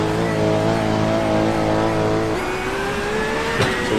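A GT3 race car at Monza in iRacing drones at full throttle, a steady, close, high-pitched engine note that shifts pitch partway through as it keeps pulling, with no talk over it.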